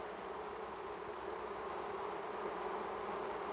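Honeybees buzz steadily inside a hive around the queen, a dense, continuous hum with no breaks, fairly faint and even throughout.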